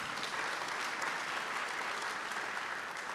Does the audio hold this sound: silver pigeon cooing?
no